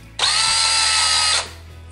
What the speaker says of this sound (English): I'm going to grab my trusty cordless drill load that in, put it on low speed